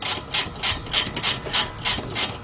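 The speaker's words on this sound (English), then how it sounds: "You want to get you a longer ratchet so you can get enough leverage to really tighten these two up." A ratchet tightens the rear rotor bolts on a 2007 Honda Accord, giving a close, rapid series of clicking strokes with an even rhythm over a couple of seconds.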